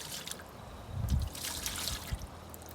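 Sugar syrup trickles and drips into a beehive feeder, a brief close liquid pour with a few splashy drips and no talk.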